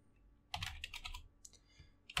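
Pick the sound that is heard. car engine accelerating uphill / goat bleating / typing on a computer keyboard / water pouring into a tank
typing on a computer keyboard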